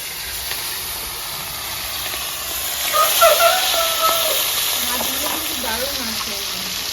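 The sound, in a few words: fish frying in hot oil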